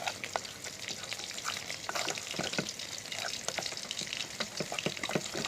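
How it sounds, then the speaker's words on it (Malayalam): An onion-tomato masala for chicken roast sizzles in a pan as it is stirred, a moderate, continuous frying hiss broken by frequent soft scrapes and taps, with no talking. "നന്നായി വഴറ്റി കൊടുക്കാം"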